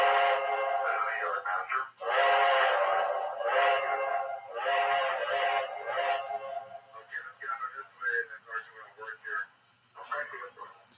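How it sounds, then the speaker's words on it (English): A Lionel toy train tender's whistle plays a pattern, starting with several long, loud, close blasts and breaking into shorter, choppy toots toward the end. "this also has a bunch of cool whistle patterns that you can do"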